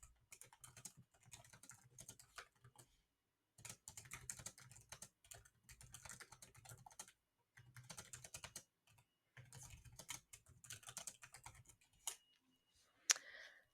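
Bursts of fast keyboard typing on a computer keyboard as text is entered, several runs of rapid clicking keystrokes separated by short pauses, close and fairly quiet, with no talking.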